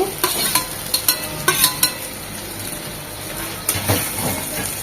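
Fried broad beans and potatoes are tipped into cooked-down fish curry spices and stirred, a run of sharp metal spatula knocks and scrapes over a steady close sizzle, fairly loud, no speech.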